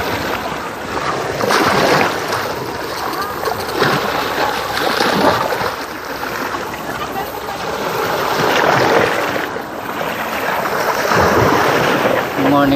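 Sea waves wash onto the shore at Lobo, Batangas, in broad surging swells that rise and fall over several seconds, with wind buffeting the microphone throughout.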